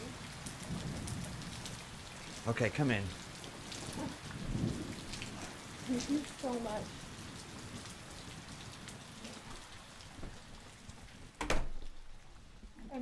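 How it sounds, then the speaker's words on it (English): Heavy rainstorm with a loud thunder crack near the end, steady downpour throughout while people talk briefly indoors. "the storm is crazy"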